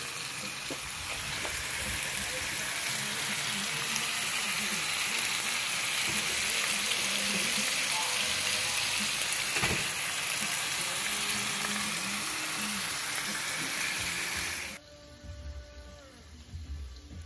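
Bacon-wrapped deer and chicken poppers sear in a pan with a loud, dense, continuous frying sizzle that cuts off abruptly near the end, leaving a quieter hiss.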